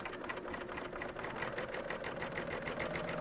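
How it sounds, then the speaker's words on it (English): A coverstitch serger sewing machine stitches at speed, a close, steady rapid mechanical whir with a fast even pulse that holds without pause throughout. "So now as we stitch"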